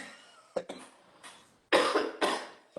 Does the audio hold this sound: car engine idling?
no